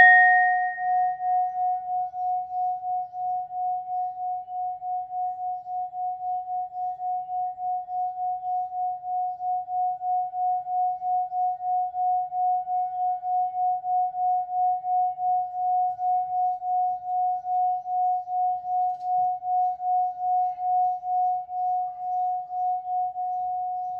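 A musical singing bowl rings with one sustained, pure tone that hums on for over twenty seconds, pulsing gently in a slow, even wobble, close and clear with no talking.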